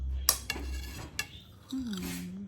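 Knife cutting through an avocado on a board during light dinner prep, a few soft slicing and tapping clicks with faint dish and utensil clatter, close and quiet, plus a brief hum of a voice.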